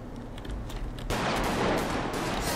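Gunfire in GTA 5 during a police raid on a chop shop: a dense, loud burst of rapid shots erupts after a quieter stretch and keeps rattling without pause to the end.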